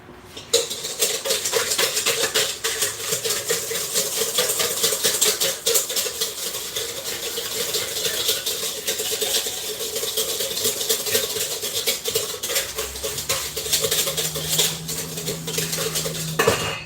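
A whisk beating rapidly against a bowl for pizza dough preparation, a fast, continuous metallic clatter and scraping held steady for the whole stretch, close and fairly loud.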